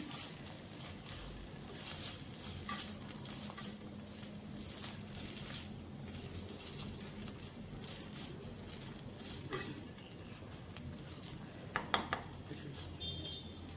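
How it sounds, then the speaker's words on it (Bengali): A large tomato added to spices in a pan fries with a soft continuous sizzle while being stirred, occasional scraping sounds and a few faint clinks near the end, quiet and close. "মশলাগুলো কষিয়ে নেওয়ার পর এবার এর মধ্যে দিয়ে দেব বড় সাইজের একটা টমেটো।"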